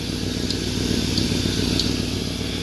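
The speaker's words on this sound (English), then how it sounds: "Uh, we got some exhaust leaks." An LS V8 swapped into a Subaru runs steadily with exhaust leaks, giving a loud, constant rumble with a hissy, raspy edge and no break or change across the stretch.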